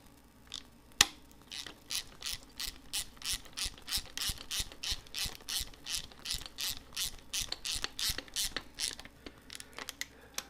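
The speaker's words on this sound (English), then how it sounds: "I'm going to use a wobble with the 9/16 on a ratchet." A ratchet turning a 9/16 socket on a wobble extension tightens bolts during an oil pump install on a 1986 Mustang 5.0 engine, giving a steady run of close, rapid clicking bursts after a single sharp knock.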